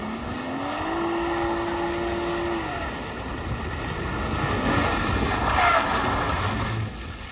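BMW M240i cars racing around an outdoor autocross track, engines rising in pitch as they accelerate then holding a steady droning roar at a moderate distance, with continuous wind and road noise throughout.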